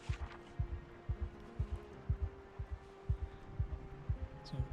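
A heartbeat from the survival game Project Zomboid: low, soft paired thumps repeating at a steady, fairly quick rhythm over a faint hum, with no talking.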